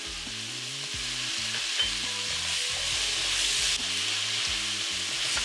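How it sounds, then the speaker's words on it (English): A utensil scrapes the bottom of a pot of frying onions for chicken soup, rough scraping strokes woven through a continuous, close sizzle with a low steady hum underneath. "Scrape the bottom of the pan"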